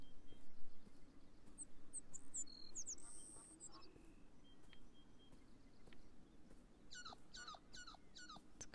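Chirping bird calls ring out in the video game Beyond Eyes, a few short bursts early and a quick run of repeated chirps near the end over a soft ambient bed.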